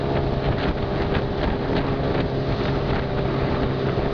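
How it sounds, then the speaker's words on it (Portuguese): A motorboat engine roars steadily and loudly throughout while the boat runs down a fast-flowing river, with constant water and wind noise mixed in and no talking. "Motor"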